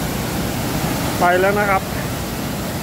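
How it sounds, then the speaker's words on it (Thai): A waterfall of reddish, muddy water, Pa Ba Falls, roars as a steady broadband rush close by, and someone speaks briefly over it midway. "อันนี้เป็นสภาพของน้ำตกตาบ่าน้ำตกมันจะเป็นสีแดง"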